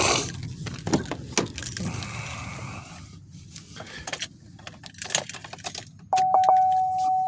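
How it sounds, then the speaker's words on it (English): A key jangles and turns in the ignition of a 2014 Chevrolet Silverado, with rattling clinks of the key ring followed by a steady electronic chime tone near the end, all close and moderately loud. "So I just keyed up the ignition"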